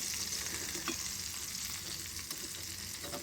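Pallathi fish frying in oil in a pan, giving a loud, steady, crackling sizzle that runs without a break from start to end, with no voices.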